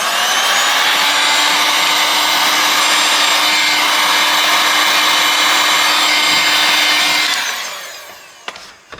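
Heat gun blowing on the camera lens of a Motorola Moto G Stylus 5G (2025) during a teardown, a loud steady whirring hiss with a motor hum that cuts off near the end, followed by faint clicks.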